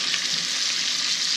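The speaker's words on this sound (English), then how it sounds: "they've been in the pan now good 10 minutes, and they're frying up really nice" Trout frying in a pan for about ten minutes, a continuous crackling sizzle of hot oil heard close and steady with no speech.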